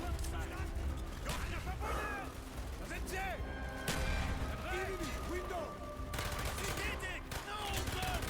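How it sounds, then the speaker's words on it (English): Grenade blast amid continuous gunfire in the World War II Germans level of Call of Duty Black Ops, one sharp broadband burst among dense rattling shots and game chatter. "Let's get a grenade in there."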